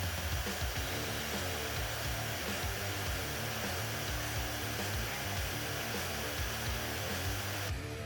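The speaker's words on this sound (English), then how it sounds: "The bandsaw is steady enough that I'm able to use it to cut the 1/4 inch flat bar." A portable bandsaw cuts through quarter-inch steel flat bar, a steady, loud mechanical whine and grind that holds unbroken for several seconds and stops abruptly near the end.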